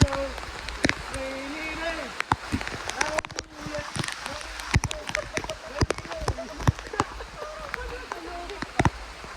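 Rain falls at a beach in Bolinao, a steady hiss with many sharp drops pattering close by, while people talk and a voice rises in a sing-song tone over it.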